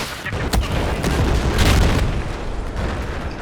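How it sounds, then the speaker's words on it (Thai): A loud explosion and heavy artillery rumble from Battlefield 4 fill the sound with a dense, booming roar and scattered blasts throughout. "โอเค มันระเบิดไปละ"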